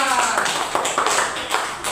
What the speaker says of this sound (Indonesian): Tepuk tangan untuk kelompok 2 saya.